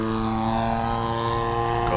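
A Seagull Models Shock Cub RC plane's engine drones steadily in flight, a continuous buzzing whine holding an even pitch and level throughout with no voices.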